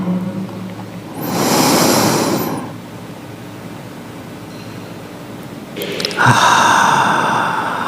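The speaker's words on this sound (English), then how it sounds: "And another inhale." A deep breath drawn in during a guided breathing exercise, a long airy inhale swelling and fading over about a second and a half, followed later by a second breathy rush, with a faint hissing background between.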